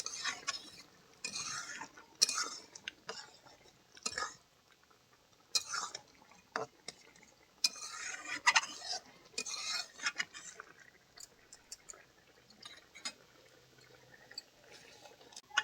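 A spoon scrapes and clinks around a pot of spinach, potato and egg curry, with irregular bursts of stirring and soft wet sloshing, close and fairly quiet, with no voices.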